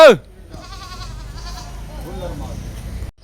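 Goat bleating at a busy livestock market in Harike Kalan, Punjab, where goats are bought and auctioned, with wavering calls and crowd chatter underneath and people talking nearby.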